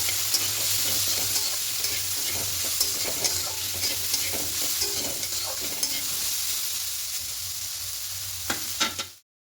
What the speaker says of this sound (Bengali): আর হলুদ গুঁড়ো দেবো, দিয়ে খুব ভালো করে মিশিয়ে নেব।